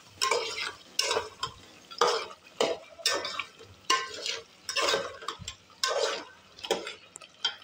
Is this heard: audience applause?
no